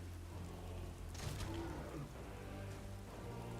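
Rain falling in a heavily modded video game over a snowy landscape, a steady soft hiss of drops on surfaces, quiet and even throughout with no talk.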